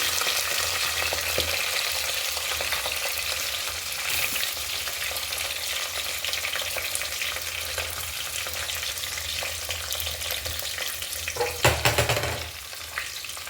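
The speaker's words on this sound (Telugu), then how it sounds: "ఈ ఆనియన్ బ్రౌన్ కలర్ వచ్చే వరకు వేపుకుంటామండి" Chopped onions with green chillies and mint leaves sizzle in oil in a pan for Telangana mutton curry, a continuous loud frying hiss with occasional stirring scrapes near the end.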